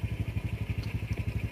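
A motorcycle engine chugs nearby on a road beside a dam park, a fast, even low throbbing pulse at close range with no speech.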